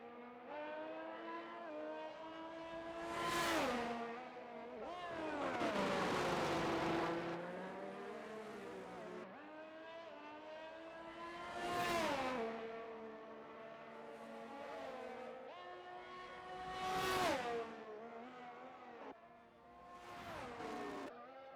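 Alpine and Williams race cars from a racing video game, engines whining loudly as they pass in a repeated rise-and-fall pattern, with several close flybys and shifting engine pitch throughout.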